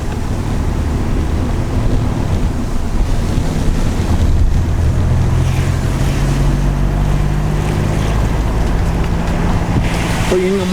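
Strong, steady wind roars past a vehicle on a road trip through Malico, filling the whole stretch with constant loud rushing, with brief voices in the background.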